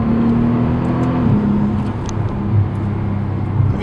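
A Bentley Continental GT W12 idles and pulls away with a low, steady exhaust rumble, close and fairly loud, the pitch dipping briefly as it shifts.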